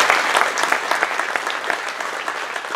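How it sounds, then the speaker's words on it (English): An audience at a coach of the year award event gives a steady, dense round of applause. The clapping is loud and close throughout, with a faint crowd murmur beneath it. "give him a big round of applause as well for everything he contributes"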